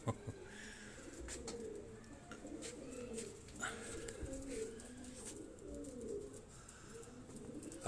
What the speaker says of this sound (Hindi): ये वो टोपी वाली ब्रीड के ये कबूतर हैं, मैं आपको दिखा रहा हूँ